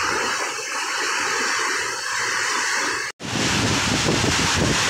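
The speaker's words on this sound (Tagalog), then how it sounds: "Sobrang lakas ng hangin na may dalang ulan." Strong typhoon wind with driving rain during Typhoon Uwan roars as a loud, steady broadband rush close to the microphone, cut by a brief dropout near the three-second mark before the storm noise resumes just as loud.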